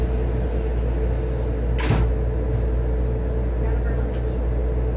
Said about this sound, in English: The doors are closing. Please stand clear.